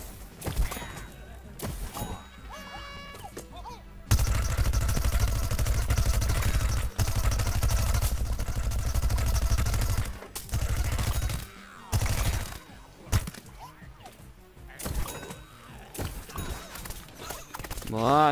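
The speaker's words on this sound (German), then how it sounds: "Boah, Schüsse von der Seite," Bursts of rapid gunfire from the video game Plants vs Zombies Garden Warfare, loud and dense in the middle stretch, with intermittent quieter game sounds around it.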